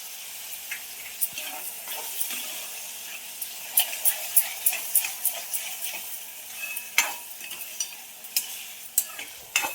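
Onion and tomato frying for sev bhaji, a soft steady sizzle dotted with sharp clicks and taps of a spoon against the pan, fairly quiet and close.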